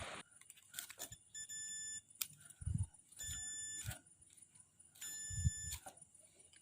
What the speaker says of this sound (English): Let's do a small continuity test and see if it works.